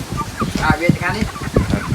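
Chickens on a Thai farm clucking and squawking close by in short busy bursts, with people talking over them.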